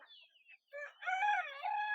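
A desi country rooster on a poultry farm crows loudly and close, a long harmonic call following a few short clucking notes at the start.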